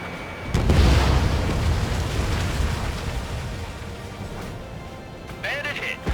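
A missile blast from Ace Combat 7 strikes an enemy aircraft, a loud rumbling boom that swells early and rolls on for several seconds, with radio voices talking over it.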